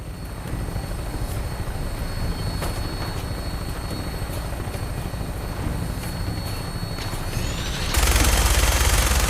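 A helicopter flies over the battlefield in Fallout 4, its steady rotor thump and engine drone running throughout and growing louder and more forceful near the end, with no talk.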